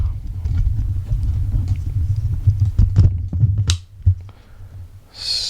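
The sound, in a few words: camera being wobbled and taken off its stand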